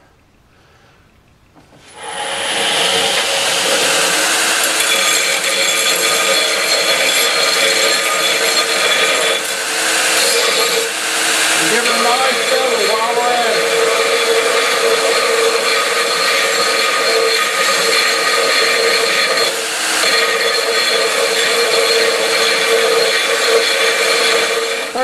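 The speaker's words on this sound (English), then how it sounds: "now we're going to take it and clean it up on the old 72-inch bench grinder" A 72-inch bench grinder cleaning up metal bag cups starts up after a short quiet moment, then holds a loud, steady abrasive whir and grinding hiss throughout.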